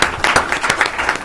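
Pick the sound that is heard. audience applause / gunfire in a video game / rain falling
audience applause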